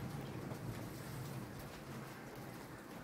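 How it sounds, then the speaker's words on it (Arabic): Heavy rain and hail pour down in a steady, dense roar of hiss and patter, constant and loud with no voices. "هانتوما شوفوا البرد كيف داير"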